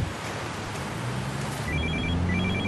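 A telephone rings with repeated short electronic bursts over a steady background hiss, loud and close, starting partway through.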